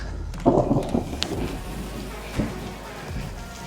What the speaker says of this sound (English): Sort of a mixture of rain and hail.